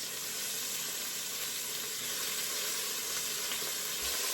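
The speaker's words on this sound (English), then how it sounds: "So it's now just browning up perfectly." Venison pieces browning in a hot pan sizzle loudly and continuously up close, a bright, hissing fry with faint stirring underneath and no voices.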